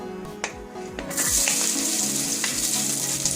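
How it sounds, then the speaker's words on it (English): Garlic and ginger drop into hot oil for a chicken curry, Kerala style, and burst into a loud, steady sizzle after a few soft clicks and taps at the start, with no talking. "To the hot oil, I'll first add the garlic and ginger"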